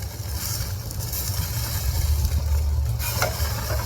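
A pork loin roast sears on an oiled outdoor grill, giving a steady close hiss and sizzle over a low rumbling background, with a brief clatter near the end.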